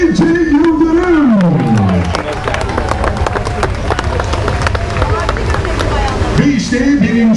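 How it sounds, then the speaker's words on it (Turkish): Applause and cheering from a crowd at the medal ceremony of an intercontinental open-water swimming race, heard throughout under a loud announcer's voice, with a steady patter of clapping. "Ve bir kez daha alkışlar onun için Ece Yıldırım."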